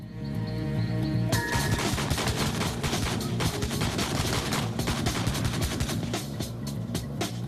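Loud bursts of fully automatic fire from an AA-12 12-gauge shotgun built for military use. The rapid repeated blasts start after a short lead-in and keep going densely to the end.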